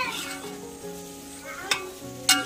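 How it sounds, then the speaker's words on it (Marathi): Onion, curry leaves, bay leaf, cumin, cardamom and cinnamon hiss steadily in hot oil for a tempering. Two sharp clinks of a utensil stand out near the end. "त्याच्यात कांदा टाकलाय, कढीपत्ता, तेजपत्ता, जिरा, वेलची, दालचिनी त्याची फोडणी द्यायला घेतली"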